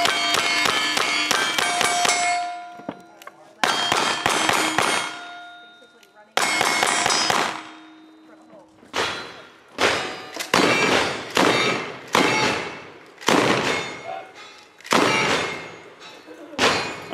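Pistol shots ring off steel targets during a shooting competition stage, sharp metallic clangs coming in quick bursts and rapid single hits, loud and close with ringing decay.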